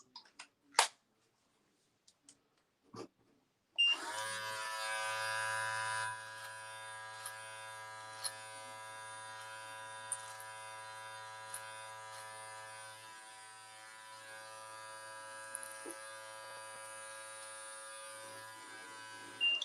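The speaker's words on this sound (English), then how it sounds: "So with your clipper, you can kind of angle it where it's not flat against your head and go right around your ear" A few faint clicks come first, then an electric hair clipper switches on with a steady, close buzz while it trims a beard and sideburns.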